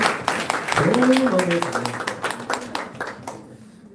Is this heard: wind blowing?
no